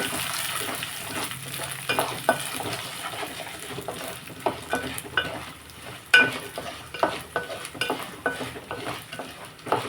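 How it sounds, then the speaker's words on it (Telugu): Dried red chillies fry in hot oil for tamarind-mustard pulihora, giving a steady soft sizzle with scattered crackles and spoon scrapes, moderately quiet and close, with no one talking. "ఇప్పుడు ఎండుమిర్చి వేసుకుందాం మనం బాగా వేగినాయి కదండి"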